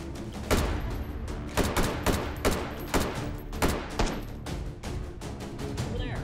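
Shots ring out in the VR game Hot Dogs, Horseshoes & Hand Grenades as a string of about ten sharp, loud gunshots at an uneven pace. Each shot is close and punchy, with a faint voice now and then under the firing.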